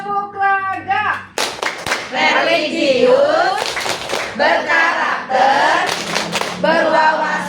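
A group in a school supervision session performs the rhythmic Tepuk Raga clap, sharp patterned claps close by, with voices chanting words in time between the beats.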